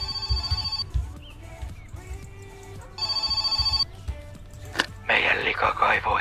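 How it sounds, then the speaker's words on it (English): A phone in the video game My Summer Car rings with repeated electronic bursts, two clear ring cycles over a low engine-like hum, with a brief burst of noise near the end. "Oh shit, phone call."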